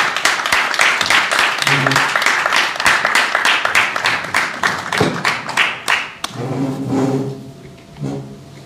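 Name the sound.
audience applause welcoming guest of honour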